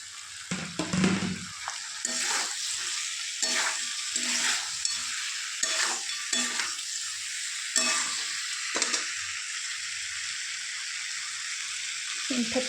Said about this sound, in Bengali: তেলটা ভেজেছিলাম, ওটা ভালো করে কষতে হবে এটাকে।